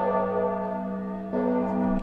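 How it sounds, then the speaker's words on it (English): Church bells ring with a steady, sustained tone that swells again partway through. The resonant peal is loud and continuous, with no voices. "you have bells"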